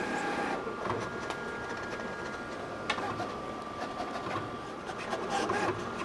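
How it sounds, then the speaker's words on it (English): A vinyl cutter slicing heat transfer vinyl, with a steady mechanical whir and brief ticking clicks as the blade and carriage move across the material, close and continuous. "this vinyl cutter can cut in front of the pinch rollers, reducing material waste"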